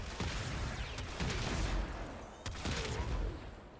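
The Tombfinger primary weapon firing in Warframe, a continuous rapid stream of booming shots that stays loud and dense throughout, with brief sharper cracks and explosions mixed in.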